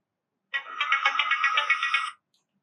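A bright electronic custom ringtone melody plays on a Samsung A17 phone for about a second and a half, then cuts off into silence.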